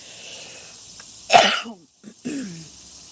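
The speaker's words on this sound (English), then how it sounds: "Wait, I'm coughing." A single loud, harsh cough bursts out close by, followed after a short pause by a smaller throat-clearing cough.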